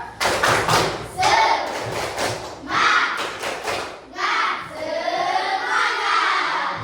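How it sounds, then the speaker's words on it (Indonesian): A classroom group performs tepuk semangat spirit clapping, sharp claps and thumps landing in rhythmic sets between loud chanted voices, with children and adults calling out together over the beat. "Sekarang kita tepuk semangat."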